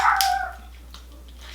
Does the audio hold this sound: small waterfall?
no